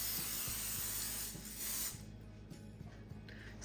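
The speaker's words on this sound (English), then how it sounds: "I'm gonna spray this with oil" Cooking oil spray hisses onto a 10.3 by 14.5 inch baking sheet for dinner rolls in a home kitchen, one steady close burst lasting nearly two seconds, then a quieter tail.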